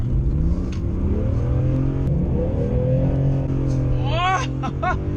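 A BMW E46 M3 engine revs loudly and steadily with sharp throttle response, its pitch rising and falling through the clip, with someone talking over it.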